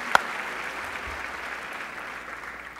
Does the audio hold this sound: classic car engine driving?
no